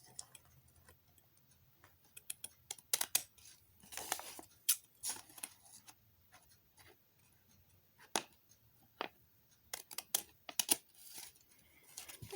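Scissors snipping through old book paper to cut petals for a paper rose: quick, faint, crisp clicks and snips in irregular bursts, close by with quiet gaps and no talking.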